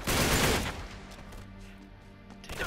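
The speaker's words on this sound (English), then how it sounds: "Who's shooting me?" Gunfire in the video game Uncharted 3, set in the London Underground: a loud dense burst of rapid shots at the start, fading into a lower rumbling tail with a few scattered quieter shots afterward.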